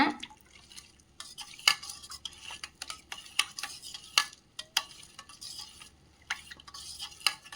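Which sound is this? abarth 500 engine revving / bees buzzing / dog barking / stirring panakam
stirring panakam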